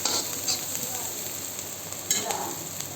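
A spoon stirs a pakoda curry mixture with green chillies and cumin powder in a pan, giving a steady soft scraping and light sizzle with a couple of sharper clinks, close and unaccompanied by speech.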